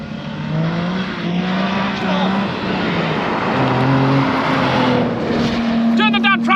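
Several performance cars on a road trip through Wales rev and accelerate hard, engines roaring loudly and continuously with shifting pitch and a brief squeal near the end, while people talk over the noise.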